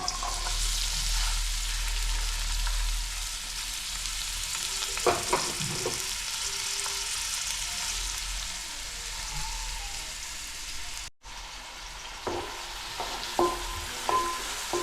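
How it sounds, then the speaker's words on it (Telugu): Two onions frying in a generous amount of oil for a village-style broiler chicken curry, giving a steady broad sizzle with a few brief clinks and stirring knocks. "తగినంత నూనె రెండు ఉల్లిపాయలు పోసుకున్నాను"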